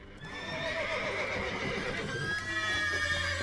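Several horses in The Witcher 3: Wild Hunt neigh and whinny in agitation, shrill cries overlapping and repeating close by over continuous rustling and faint hoof clatter, with no talking.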